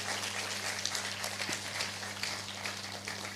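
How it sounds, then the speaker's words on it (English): A crowd claps steadily at a debate competition final as a team advancing to the final round is announced, the applause broad and continuous throughout with a faint low hum beneath. "Please give them a round of applause"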